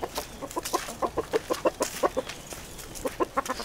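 A rooster and his hens cluck in a quick, uneven run of short notes close by, the chatter rising and falling steadily with brief pauses, with no voices.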